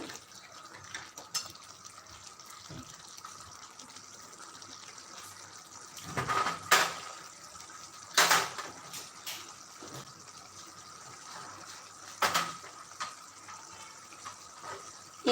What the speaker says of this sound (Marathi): बघा यात मी अजून पाणी गरम करून घालत आहे